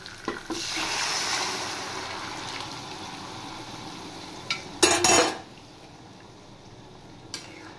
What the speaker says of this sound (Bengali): এবার আমি ডালটা দিয়ে দিচ্ছি